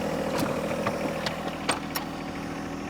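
A tractor of the kind fitted with a digging attachment and a reversible seat idles steadily and close by, a low even chug with a few faint clicks and knocks on top, no voices.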